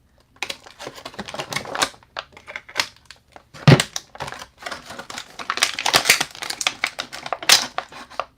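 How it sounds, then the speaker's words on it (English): Scissors snip through rubber bands on action figure packaging, with sharp close clicks and cuts mixed with crinkling plastic and cardboard in irregular bursts, no talking. "Let's cut these rubber bands."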